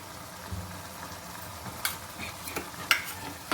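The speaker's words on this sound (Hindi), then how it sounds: "अब हम इसमें जीरा डालेंगे।" Cumin seeds hit a hot pan with bitter gourd for Punjabi-style stuffed karela, making a faint sizzle under light stirring. A few sharp utensil clinks rise above it.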